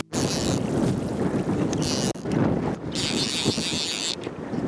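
Strong wind gusting across a lake during fly fishing, a steady loud broadband rush buffeting the microphone, with brief lulls and surges and some water churn underneath.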